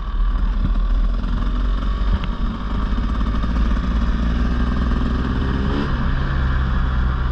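Husqvarna 300 TE 2024 dirt bike engine running steadily and loud throughout, a continuous close rumble with only slight shifts in pitch while riding.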